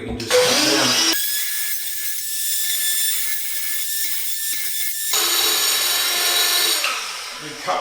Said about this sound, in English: what we got here is a new little handy saw